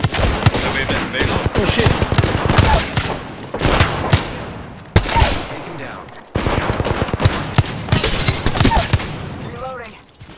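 Rapid automatic gunfire fills a heated Apex Legends firefight, with sustained bursts and sharp shots close up, a brief pause midway, and a player exclaiming excitedly over the shooting.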